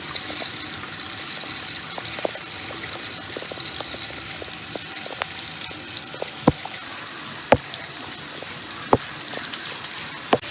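Steady hiss of tap water running while dyed green and blue hair is rinsed, with occasional sharp clicks and knocks over the constant flow.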